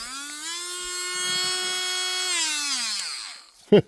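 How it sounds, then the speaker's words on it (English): A cordless Dremel rotary tool runs at a high, steady whine that rises as it spins up and then winds down after about three seconds, close to the listener, followed by a brief clatter. "I didn't even know Dremel made a cordless tool"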